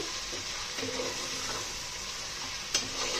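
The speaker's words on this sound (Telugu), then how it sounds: "రొయ్యల్లో నీరు ఉంటుంది కదండి, ఆ నీరు పోయేదాకా ఉంచుకుందాం. అలా వేపుకొని ఉంచుకోవాలండి." Prawns frying in a pan, hissing softly and steadily as their water cooks off, with one brief clack of a utensil near the end.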